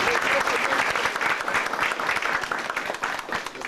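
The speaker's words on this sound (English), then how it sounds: "Give her another round of applause." An audience at a tribute event breaks into dense, steady applause, many hands clapping close and loud throughout.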